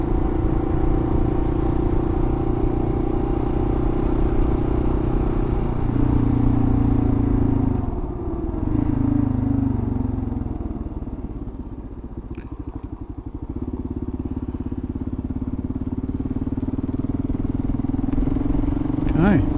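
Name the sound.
KLR adventure motorcycle riding on road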